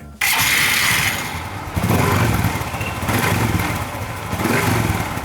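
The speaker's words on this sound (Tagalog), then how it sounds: "pwede na nating paandarin ang motor." A Honda XRM 125 motorcycle engine starts up after a fresh spark plug is fitted, catching at once and running steadily with a couple of revving surges, loud and close, with no talk.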